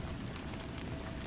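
Steady rain falls on a surface, a dense, even patter with soft scattered drops, continuous and moderately close with no voices.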